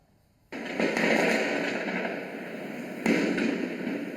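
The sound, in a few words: fireworks set off to scare herons in a city centre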